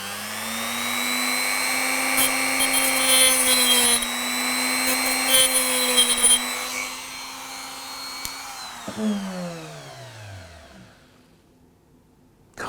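A small high-pitched power tool cuts a groove into the plastic front of a model train coupling, whining steadily for several seconds, pitch wavering slightly under load, then spins down and stops.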